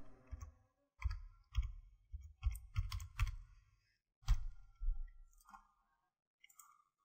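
Typing on a computer keyboard comes in close, crisp bursts of clicks separated by short pauses, with no one talking.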